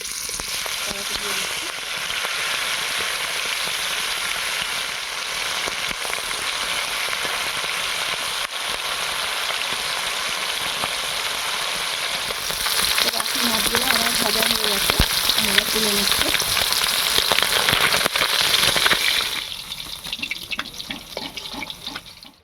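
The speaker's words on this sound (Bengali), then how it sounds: "বাকি মাছটাও আমি একইভাবে ভেজে নেবো" Steady loud sizzling of river chanda fish frying in hot oil, growing louder midway with a brief voice in the background, then fading near the end.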